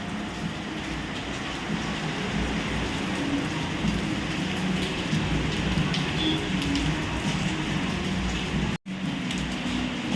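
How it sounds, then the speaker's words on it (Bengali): Heavy rain in Darjeeling, a dense steady roar of falling water that holds constant across the scene, with a brief dropout near the end and no voices. "খুব জোরে বৃষ্টি হচ্ছে।"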